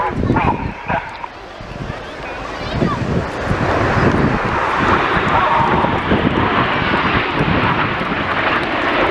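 Red Arrows jets roar overhead at the 2016 Wales National Airshow while flying a Tornado formation, a loud, sustained broadband engine rumble building and holding, with a commentator talking over it and a dog barking briefly.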